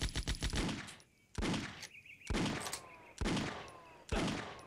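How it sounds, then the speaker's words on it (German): Rapid bursts of video game gunfire in a woodland shootout, several separate volleys of loud automatic shots with short pauses between them. "Er trifft mich nicht wirklich. Ich treffe ihn aber auch nicht wirklich. Verballer hier nur Munition."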